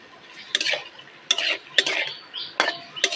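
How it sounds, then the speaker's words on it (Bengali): Chopped potatoes with spices being stirred in a pan, five or six separate scraping strokes with clinks of a utensil against the pan, a soft sizzle faint between them, no voices. "এবার এর মধ্যে আলু কুচিগুলো দিয়ে দেবো, দিয়ে নাড়ি ছাড়িয়ে নেবো।"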